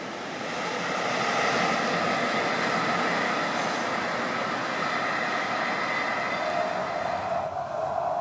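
A train passes on the busy Frankfurt–Cologne railway line along the Rhine, a sustained loud rumbling roar that swells in, holds steadily, and eases slightly near the end.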